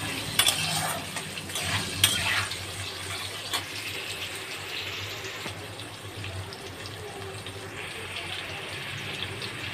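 Potatoes with turmeric and salt frying in a pan until browned, a continuous soft hiss and bubbling with a few sharp clinks of a utensil early on, close and without speech.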